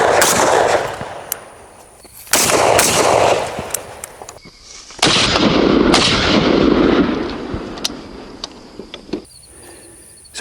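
An FN FAL rifle fitted with a Belgian muzzle brake fires three loud, sharp shots outdoors, each a booming crack followed by a long rolling echo that fades before the next.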